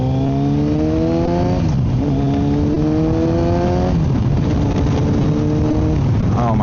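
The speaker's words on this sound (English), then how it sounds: "Like just hearing that exhaust just taking off right there at low speeds" A Kawasaki Z900 motorcycle with a full M4 exhaust and ECU flash revs up hard through several rising pulls with brief breaks for gear changes, loud, close and raspy.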